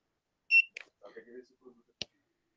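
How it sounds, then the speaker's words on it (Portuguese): A store barcode scanner beeps as a product is scanned during a live dropshipping order-packing setup, giving a sharp short beep followed by a brief soft chatter of voices and a final click. "vou bipar primeiro o produto, pra ver qual é"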